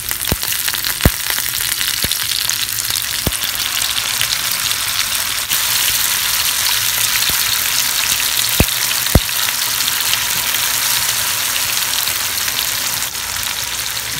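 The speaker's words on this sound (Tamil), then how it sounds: "லோ ஃப்ளேமில் வச்சுட்டு இப்போ நான் வந்து மீனை போடுறேன் பாருங்கள்." Fish fries with onions in a pan on a low flame, a loud, continuous crackling sizzle dotted with sharp pops and spatters, with no voices.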